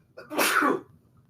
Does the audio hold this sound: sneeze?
yes